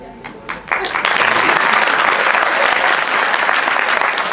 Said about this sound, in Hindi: मेरे स्वागत में जो जोरदार तालियां आप लोगों ने बजाई उसके लिए बहुत बहुत शुक्रिया.